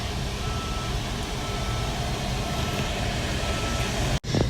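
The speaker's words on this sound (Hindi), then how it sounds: "हम आ गए निर्माण विहार मेट्रो स्टेशन।" A metro train rumbles steadily at Nirman Vihar metro station in Delhi with broad rail noise and a faint repeating beep, then cuts off abruptly near the end.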